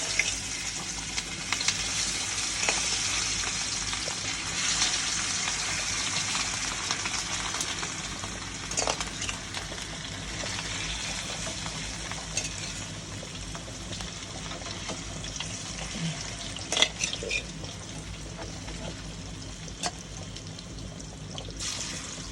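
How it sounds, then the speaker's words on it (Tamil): Continuous bubbling and sizzling from a pot of fish curry on the stove, a steady simmering hiss with occasional small pops and clinks. "இங்கே பாருங்க மீன் குழம்பு இப்படி கொதிச்சு கொண்டு இருக்கோன்னு"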